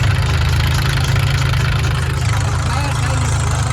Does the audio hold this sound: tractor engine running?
yes